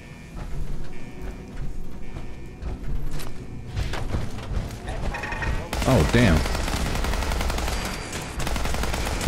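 Automated turrets in Fallout 4 rattle off machine-gun bursts, sharp rapid fire that grows denser and louder midway, mixed with thumps and background game sounds.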